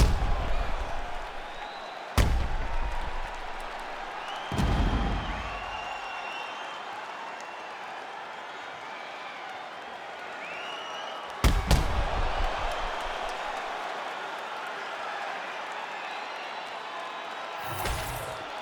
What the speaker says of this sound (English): an appreciative capacity crowd on its feet as this next round gets underway